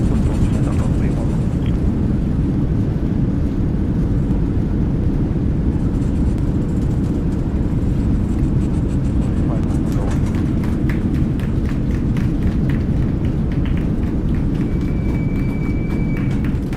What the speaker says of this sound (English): That's how you land an aircraft.